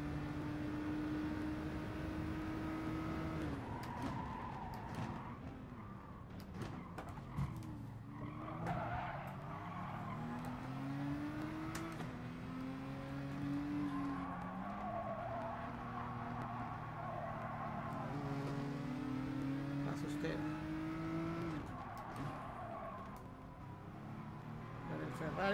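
Racing cars, including a GTR, in GT Sport on the Mount Panorama circuit, with engines droning and rising in pitch as cars overtake and pass, plus occasional tire squeal, steady throughout while a person talks over it.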